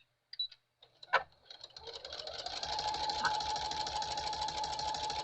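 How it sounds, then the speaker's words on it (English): A few clicks and a thump, then a sewing machine whirs into steady, fast stitching through burlap that runs continuously close by. "I'm going to take the sewing machine here and I'm going to just"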